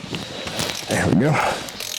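A ratchet with a socket and extension loosens a bolt on a 2005 Cadillac Escalade, making a short burst of close clicking and scraping mechanical noise over a couple of seconds, with a voice faintly present.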